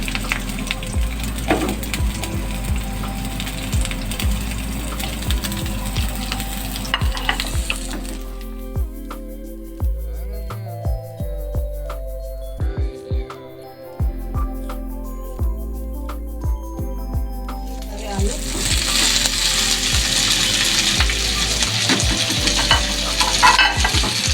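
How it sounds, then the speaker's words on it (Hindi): Sliced onions frying lightly in hot oil in a home kitchen pan, with a steady sizzle broken by stirring clatter, quieting midway before the loud crackle swells back, close and without speech. "सबसे पहले मैं इसमें प्याज डालूँगी और इसको हम लाइट सा फ्राई करेंगे।"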